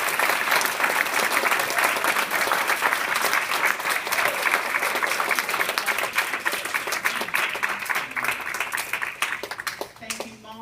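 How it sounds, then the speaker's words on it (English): Students give their mothers a big, sustained round of applause at a school celebration, the dense clapping of a large crowd filling the room steadily and thinning out toward the end. "Students, now's the time to give your mothers the biggest round of applause you've ever given them."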